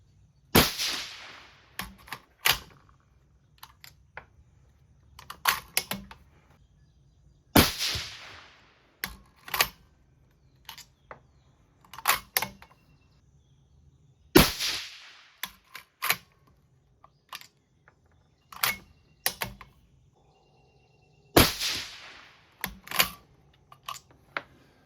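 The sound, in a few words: gunshots from a 22 ARC rifle firing 80 grain bullets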